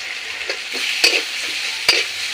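A spice paste of Kashmiri red chilli powder, turmeric, ginger-garlic paste and onion paste, loosened with a little water, hisses and sizzles in a pan for bitter gourd and catla fish curry, with two sharp scraping stirs over a steady fry.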